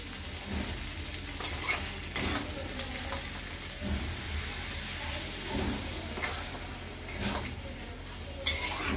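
Water poured into sautéed food in a hot pan, with bursts of hissing sizzle and stirring scrapes over a steady frying crackle, close and moderately loud.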